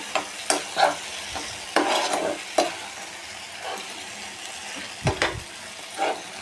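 Banana slices fry in a pan as a spoon stirs them, giving scattered scraping clacks and soft sizzle bursts at an uneven rhythm, close and moderately loud, with no talking.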